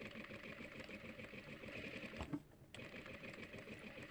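A tailoring sewing machine runs steadily, stitching through paper with a fast, even mechanical whir that pauses briefly midway before resuming, close and moderately quiet.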